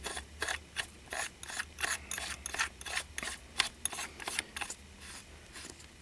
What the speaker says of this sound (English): bring your barrel nut down and just start to tighten